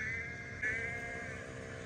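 Sheep bleat in a wooden toy railway storm scene, a single sustained, wavering bleat that is steady and fairly loud over a faint background hum.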